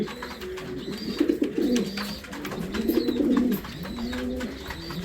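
Belgian breeding pigeons coo in a cage indoors, several overlapping low, rolling coos rising and falling close by, with no talk.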